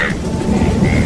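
Thunder rumbles low and heavy through a rainstorm at night, a brief loud roll over the dense hiss of falling rain.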